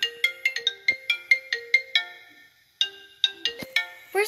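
A mobile phone plays a bright, repeating electronic melody ringtone, quick staccato notes in a steady rhythm, a short pause, then the tune starting again, clear and close with no voices.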